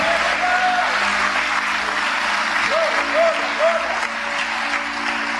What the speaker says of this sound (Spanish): denle un aplauso al Señor Dios Todopoderoso en esta noche